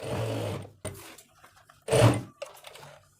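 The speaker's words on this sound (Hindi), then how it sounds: "इस पर ऐसे खींचते हुए सिलाई लगाते हैं।" A sewing machine stitches a palazzo pant in short bursts of whirring. The runs stop and start, with quiet gaps between them, and the machine sounds close.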